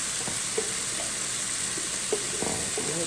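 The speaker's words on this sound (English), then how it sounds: "I'm gonna remove the eggs from this bowl here because I'm about to fry them next." Eggs frying in a pan while making shrimp fried rice, a steady, close sizzle with crackling oil and a few soft spatula scrapes, no voices.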